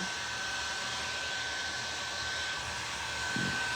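A hair dryer blows to dry paint on thrifted home decor, a steady close airy whoosh with a constant high whine, running unbroken and alone throughout.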